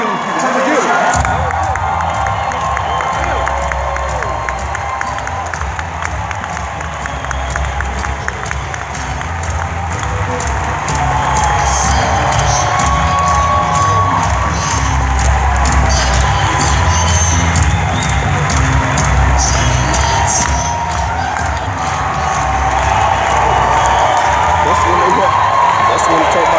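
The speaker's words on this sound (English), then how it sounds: "Warm round of applause. Welcome Mr. Grant Cardone to Legal Shield." A business event crowd gives Grant Cardone a loud, sustained welcome, dense clapping mixed with cheers and whoops that continue throughout, with voices shouting over the din.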